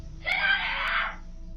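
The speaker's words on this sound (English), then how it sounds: "It seems they only run off after the girl starts screaming" A girl screams loudly in one sustained, high-pitched burst of about a second, picked up by a doorbell camera outdoors at a front door.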